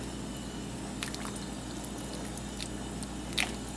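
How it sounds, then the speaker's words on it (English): Miso mixture is poured and stirred into a pot of vegan pho, giving soft liquid splashes and light drips over a steady background hum, with a brief louder splash near the end. "I am going to add the miso mixture now. Just gonna pour this right in"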